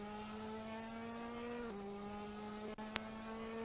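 A Ferrari Challenge race car at Spa-Francorchamps drones at a steady high engine pitch, dropping sharply once as it lifts or shifts, followed by a short sharp click.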